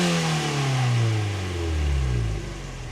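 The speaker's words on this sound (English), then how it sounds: "shall we get some revs in so you guys can actually hear the exhaust properly?" A Mazda MX-5 engine revs up and falls back with its exhaust note, loud and close, pitch sweeping down then climbing again before settling, with no talk.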